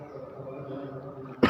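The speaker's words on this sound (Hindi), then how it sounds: "खांसी" One sharp, loud cough bursts out near the end, following a steady low murmur of background noise at an outdoor spot in Ludhiana.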